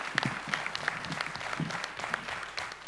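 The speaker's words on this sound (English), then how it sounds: "Why don't you applaud for 3234D2?" Scattered clapping from a Lions district gathering in Pune, quiet and sparse with distinct individual claps rather than a full roar.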